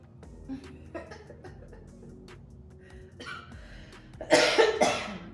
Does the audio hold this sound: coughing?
yes